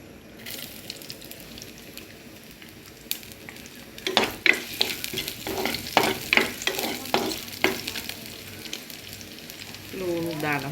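Garlic goes into a hot pan for pol sambol and fries with a sizzle that builds after a quiet start, with rapid, irregular scrapes and clatters from stirring, close and loud, and no talk.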